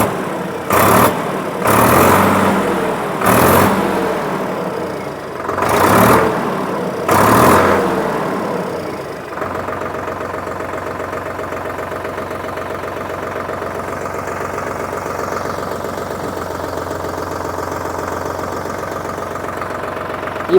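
A Solis Yanmar 5015 E tractor's engine starts up with a few loud chugging bursts, then settles into a steady, close, even idle that continues alone.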